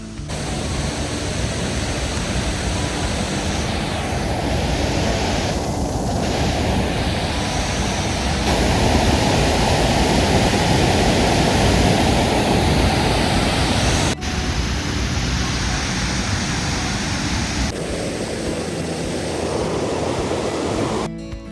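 Steady, loud rush of flowing water from Kynshi Falls near Shillong, Meghalaya, swollen by heavy rain, a dense continuous roar like a waterfall or torrent, unbroken throughout with no voices.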